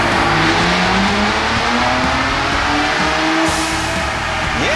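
A supercharged 2022 Ford Bronco Raptor engine roars loudly on a dyno, holding a sustained high rev with rising pitch sweeps and a sharp climb near the end, close and continuous.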